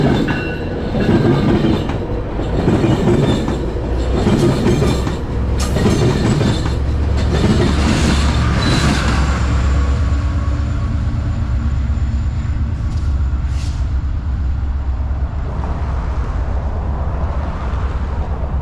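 A Metrolink commuter train rolls past near San Pedro Junction in Vernon, a loud close rumble with rhythmic wheel clatter and a brief high squeal near the end, no voices.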